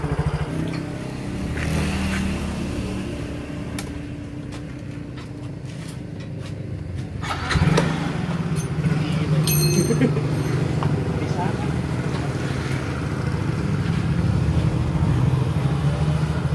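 Yamaha Mio Soul i115 scooter after an idle speed control valve reset, its engine starting and idling steadily close by, a low continuous rumble that lifts slightly after a brief rev, with a person talking over it.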